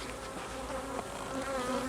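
Honey bees hum steadily at an open hive while a super is being added, a dense, continuous buzz close by with no voices.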